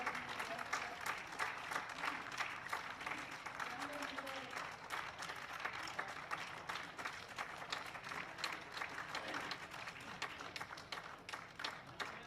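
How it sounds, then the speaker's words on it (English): Audience applause at an agricultural college golden jubilee celebration, sustained clapping from a crowd lasting throughout, steady and moderately distant, with faint voices underneath. "a great clap for all those people who have supported"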